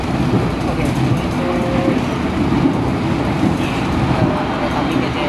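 Gajayana passenger train in Indonesia running on the rails, heard from inside an executive first-class carriage: a steady, loud rolling rumble with rattling that carries on unbroken throughout.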